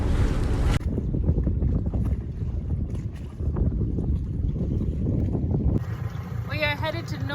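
A sailboat under way on open water near Great Keppel Island on a breezy day, with loud, gusty wind rushing across the microphone and hull-and-water noise, and a voice speaking briefly near the end.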